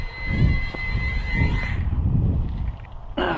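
A Walkera QR Ladybird V2 ultra-micro quadcopter runs its motors at full throttle, a steady high-pitched whine with a low rumble beneath that fades out near the end, followed by a brief sharp noise.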